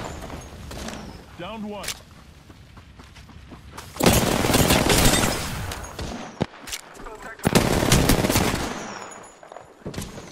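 Gunfire in the video game Apex Legends, with bursts of shots and loud sustained fire, heaviest in two stretches midway and near the end, under a speaking voice and game announcer lines.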